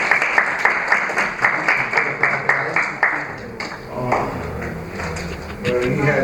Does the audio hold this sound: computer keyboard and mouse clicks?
no